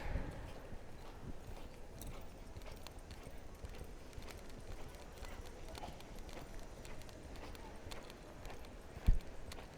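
Horse hooves clip-clopping at a steady walk over outdoor ground, with a sharp knock near the end.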